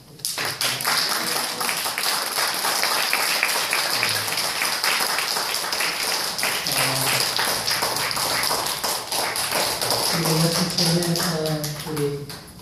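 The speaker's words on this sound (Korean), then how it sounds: "박수로 먼저 한번" A church congregation claps during a worship service, a dense stretch of fairly close clapping that continues throughout while voices murmur and speak underneath.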